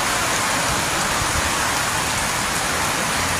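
Heavy rain from Typhoon Enting pours over a flooded neighborhood in Barangay San Luis, Antipolo City, a dense, unbroken roar of downpour hitting surfaces up close with no talk.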